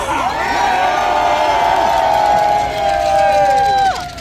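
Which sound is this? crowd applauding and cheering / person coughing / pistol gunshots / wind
crowd applauding and cheering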